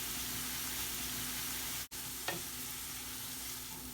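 Onions caramelizing in a pan for kubbeh give off a steady, even sizzle, with one brief dropout and a small clink partway through.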